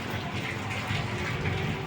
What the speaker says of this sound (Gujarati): સરસ મજાનો વરસાદ ધીરો ધીરો વરસે છે